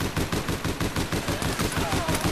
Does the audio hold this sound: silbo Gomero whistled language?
no